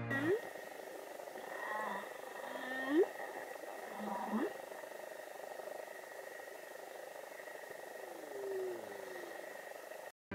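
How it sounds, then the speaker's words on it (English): Humpback whale song: long, eerie rising and falling tonal calls and moans drifting over a steady underwater hiss, with a few louder sweeping cries early on, continuing unbroken for about ten seconds. "listen to the incredible songs of the humpback whales"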